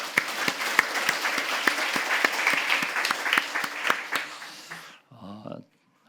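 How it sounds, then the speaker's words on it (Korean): Church congregation applauding together in thanks at the close of a Leviticus Bible study, steady clapping filling the room for about five seconds before it stops, with a short burst of speech at the end. "우리 주님께 감사의 박수 드릴까요?"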